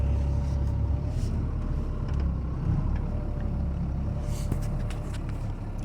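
A tow truck's engine idling and rumbling steadily as it is parked, a loud, even low drone that holds for several seconds, with faint mechanical rattles and no voices.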